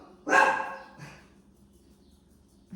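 A small dog gives one sharp, loud bark close by, then a softer follow-up yip a moment later, with quiet room background around it.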